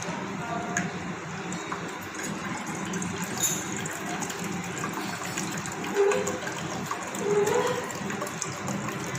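Three liters of water are poured into a mixing container for a malai khaja dough, a continuous gushing, splashing flow with a couple of louder surges, close by, with faint talk in the background.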